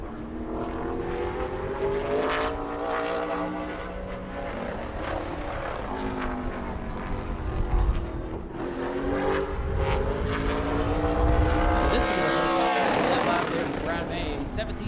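A super late model race car on a qualifying lap at New Smyrna, its engine droning and rising and falling in pitch as it circles, loud and sustained beneath a commentator's voice.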